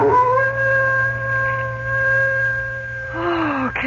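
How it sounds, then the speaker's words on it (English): A dog howls ominously in a drama scene: one long, sustained, wavering howl holds steady over a low background hum, then bends downward near the end, fairly loud and without talk. "No sound can be heard but the ominous howling of a dog"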